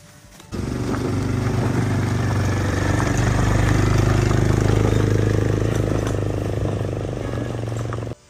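A motor tricycle's engine starts up and runs with a steady, droning hum for several seconds, close and fairly loud, then cuts off abruptly.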